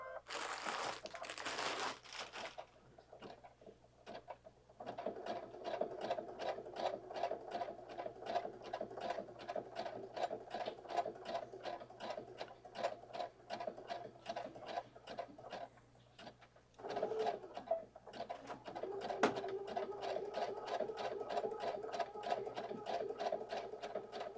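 A sewing machine stitches rope in rapid, even bursts of mechanical clatter, with a brief pause midway before resuming at a steady pace, close and clear.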